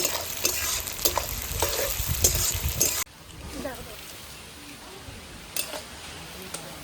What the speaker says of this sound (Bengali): পেঁয়াজগুলো লাল লাল করে ভেজে নেব